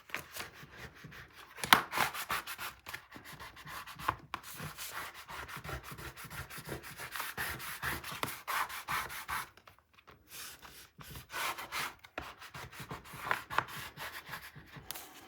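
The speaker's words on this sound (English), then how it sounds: "So let's get this burnished." Paper for a scrapbook mini album page is burnished with a tool, giving a continuous soft scraping rub in repeated back-and-forth strokes with a brief pause near the middle, with no talk.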